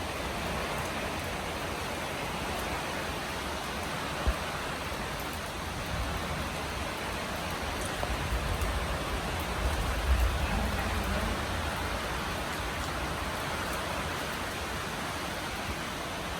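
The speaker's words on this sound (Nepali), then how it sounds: "पानी परिरहेछ हाम्रोतिर।" Rain falls steadily outdoors under a dark, cloudy sky, giving an even hiss of broadband patter with a faint low rumble beneath. A couple of brief louder bumps stand out, and no one speaks.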